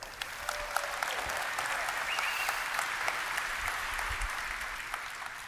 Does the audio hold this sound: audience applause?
yes